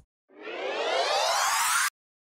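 Small riser sound effect from a sample pack for dubstep production: a single bright, noisy sweep rising steadily in pitch for about a second and a half, loud and close, then cutting off abruptly.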